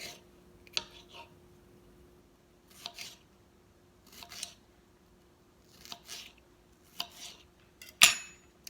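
A knife slices red and yellow bell pepper on a board in about seven separate crisp strokes spaced a second or so apart, ending with a louder clattering cut. No one speaks.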